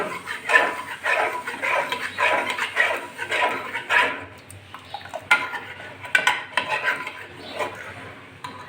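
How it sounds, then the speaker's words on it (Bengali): A ladle stirs boiled dal in a metal pot in a home kitchen, producing repeated close clanks and scrapes against the pot rim and sides in an uneven rhythm. "আমি একটা হাতা দিয়ে ঘেটে দিচ্ছি ডালটা একটু"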